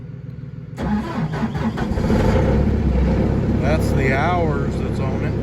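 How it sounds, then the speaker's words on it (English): Kubota diesel engine on a cattle farm cranking and catching at about one second, then running steadily and loud nearby, with someone talking over it throughout. "This is Kubota diesel. I bet it'll start now."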